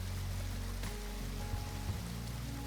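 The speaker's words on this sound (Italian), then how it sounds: "L'acqua che si infrange sulle rocce vulcaniche crea un rombo profondo che si sente nelle ossa" Steady, dense rush of a waterfall crashing onto volcanic rocks in Oregon, a continuous low roar with no breaks, loud and close throughout.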